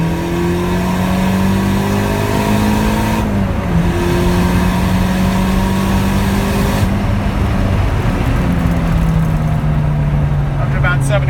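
A Callaway Rabbit car engine pulls hard in third gear around 4,000 RPM, a loud steady drone rising in pitch with brief drops at shifts, with people talking over it.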